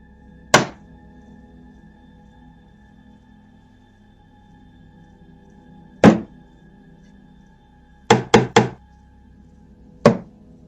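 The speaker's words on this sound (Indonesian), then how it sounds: "Pada video ini, memang terdengar suara ketukan" Sharp knocks ring out near a dollhouse in a quiet room: a single knock, another several seconds later, a quick run of three, then one more. Each is loud, hard and brief against a low steady hum.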